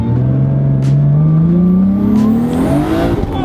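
Nissan Skyline R32 GTR accelerating hard up through the gears on an open straight, a loud close-up engine note climbing steadily in pitch with a brief shift near the end, heard from inside the car.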